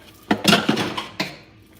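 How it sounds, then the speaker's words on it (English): Dishes washed by hand in a kitchen sink, with several sharp clinks of plates and cutlery knocking together in quick irregular bursts, close and fairly loud, then tapering off. "So before I can even start cooking my dinner, I had to wash my dishes."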